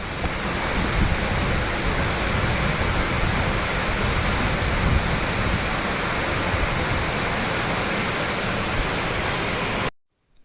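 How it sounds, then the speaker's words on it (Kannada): Steady, loud broadband roar of Unchalli waterfall in a forest, a dense unbroken wash of falling water filling the whole stretch with no voices, then cutting off abruptly near the end. "ವಾಟರ್ಫಾಲ್ ಸೌಂಡ್ ಬಿಟ್ಟು ಬೇರೆ ಏನು ಶಬ್ದನೂ ಅಲ್ಲಿ ಕೇಳಿಸ್ತಾ ಇರಲಿಲ್ಲ"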